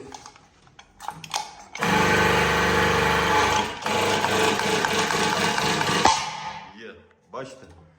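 An SYD-50 punching machine works on sheet metal, a loud mechanical whir and grind that starts abruptly, runs for about four seconds, runs on more unevenly with a sharp hit near the end, then fades; quieter handling noises come before and after.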